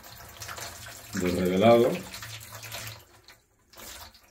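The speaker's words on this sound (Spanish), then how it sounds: "Y ahora se le echa agua" Water is poured over a freshly developed wet-plate collodion photograph to halt development, a splashing, gushing pour lasting about a second amid talk, with speech continuing before and after.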